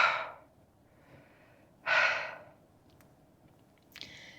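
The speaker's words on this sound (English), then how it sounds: "Taking a minute to recover my breath." Heavy breathing at high altitude while recovering breath: three loud, close gasping exhales, the second strongest, separated by quieter pauses.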